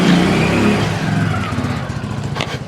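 A Honda Pridor motorcycle engine runs on the road with a loud, close, pulsing mid-range engine note and wind rush that eases slightly toward the end.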